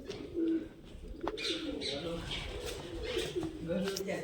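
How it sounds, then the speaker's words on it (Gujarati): Fancy white pigeons coo in low, repeated rolling calls close by, with occasional chirps and some background voices mixed in. "આ બધા વ્હાઈટ કલરના ફેન્સી કબૂતર છે"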